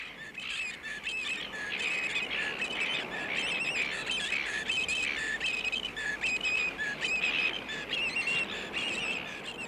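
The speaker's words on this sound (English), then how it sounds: "These are baby cormorants." Baby cormorants at seabird nests on the Pearling Coast, a dense, continuous chorus of harsh, high squawks and whistling calls, close and loud with no talking.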